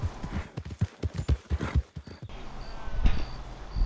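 Horse hooves walking in Red Dead Redemption 2 Online, a run of close, evenly paced clip-clop steps for about two seconds, then quieter shuffling and a few softer thuds.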